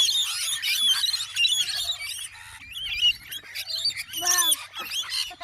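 A pet bird close by gives loud, rapid screeches and chirps in continuous busy bursts, with a squealing rise near the end.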